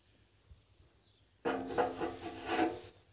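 Metal square pieces of a well-cleaning hook being joined together, giving a sudden close scraping, rasping clatter that starts abruptly and continues for a couple of seconds after near-silence.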